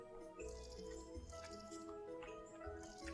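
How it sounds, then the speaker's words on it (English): Faint watering of crops in the farming video game Wild Season: soft dripping, squishy splashes over a quiet layer of game music. "Water this stuff out."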